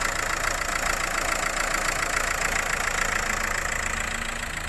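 A Renault Megane 4 engine idles steadily with no leaks or stray knocks, a constant close-up mechanical hum and fine rattle holding even throughout with no talking.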